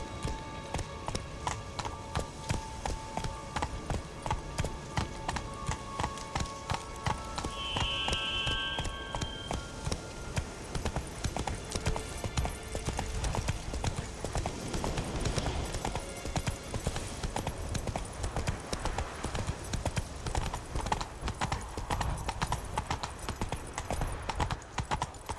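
Roach, Geralt's horse in The Witcher 3: Blood and Wine, clip-clops steadily for a long stretch, the close, even hoofbeats running on under quiet background music with a little speech.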